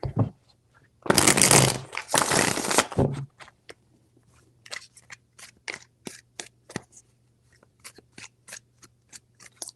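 Tarot cards being shuffled by hand: a loud, dense riffling burst lasting about two seconds, followed by a run of softer, irregular card taps and slides against a faint steady hum.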